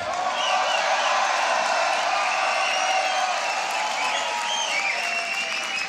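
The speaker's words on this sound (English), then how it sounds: "make some noise for Shogo" Audience at a beatbox battle applauding and cheering, a continuous wash of clapping with scattered whoops, dense and fairly loud throughout.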